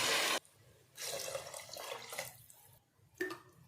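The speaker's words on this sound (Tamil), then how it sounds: "இதில் 2 டம்ளர் தண்ணி சேர்க்குறேன்" Water runs from a tumbler into a pot of rice and horse gram in a home kitchen, a steady rushing pour with a brief gap and a splash near the end.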